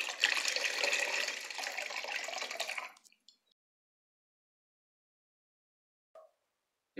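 Liquid macerate is strained after a rinse with distilled water in cosmetic perfume making, a steady pouring trickle for about three seconds, then a few faint drips and taps in near silence.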